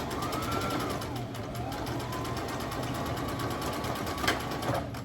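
A sewing machine runs steadily and loudly at close range while stitching a tote bag, with a continuous whirring, needle-rhythm hum and a couple of small clicks near the end.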